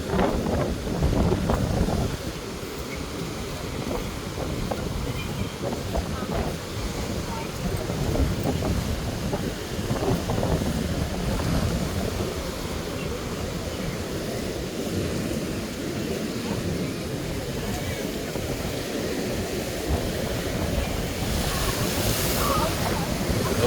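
Stormy sea waves crash repeatedly along the Jaffna coast in a continuous loud roar, with heavy wind buffeting the microphone and voices talking faintly underneath.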